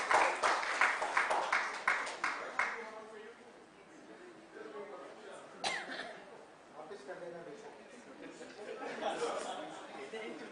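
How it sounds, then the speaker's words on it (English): Audience applause at a heatwaves workshop session, a burst of clapping in the first few seconds that quickly fades into murmuring chatter, coughs and scattered voices in the room. "Can we have a round of applause?"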